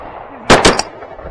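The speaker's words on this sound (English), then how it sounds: "I got that one. Shoot it." A shotgun fires at birds on a late-season hunt, with two sharp, loud blasts in quick succession and a fainter third crack echoing in open air.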